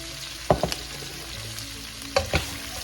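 Pork and aromatics sautéing in a hot pan for pork sinigang: a steady close sizzle with two pairs of sharp stirring clacks. No voices.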